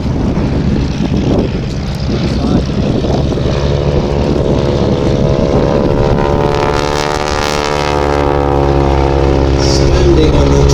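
Propeller aircraft flying a display at an airshow, its engine drone loud and steady with a rising, shifting tone as it passes, under a continuous hum with faint crowd noise.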